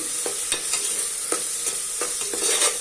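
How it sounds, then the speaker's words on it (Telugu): Mutton masala being stirred in a pan after ginger garlic paste and chilli powder go in, with a steady sizzle and repeated scraping strokes of the spoon at an irregular rhythm, close and alone. "ఇలా అల్లం వెల్లుల్లి పేస్ట్ వేసి ఫ్రై చేసాక ఇందులో నేను త్రీ టేబుల్ స్పూన్ కారం వేస్తున్నానండి"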